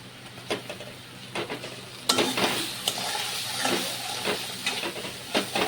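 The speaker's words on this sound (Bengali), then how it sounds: "ভালো করে কষিয়ে নিতে হবে।" Spices, salt, sugar, Kashmiri chilli powder, roasted cumin and grated coconut for hilsa latika sautéed in a pan, soft sizzling with intermittent scraping stirs of a spoon, close and moderately quiet, no talking.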